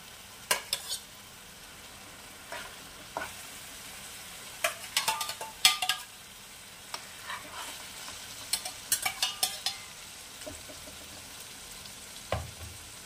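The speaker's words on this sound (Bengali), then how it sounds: "খুব হালকা হাতে মাছগুলো দিয়ে দিতে হবে।" Fish pieces for Bengali Aar Methi frying gently in a pan over a very low flame, a faint soft sizzle broken by scattered light clicks and scrapes of a utensil, with no talking.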